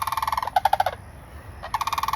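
Turkeys gobbling outdoors in rapid, rhythmic bursts of calls, loud and close, with one burst breaking off for a brief quiet gap before the gobbling resumes.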